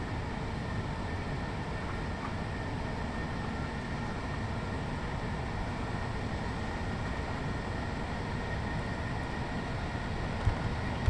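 Steady low rumble and rail hum from inside the cab of a London commuter train running near Preston Park station, continuous and moderately quiet with no talk, ending with a faint click or knock.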